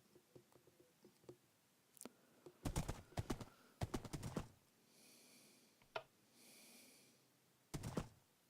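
Horse hooves clip-clop in a video game, a few sharp hoof clatters in quick bursts separated by quiet gaps, with faint splashy patches between.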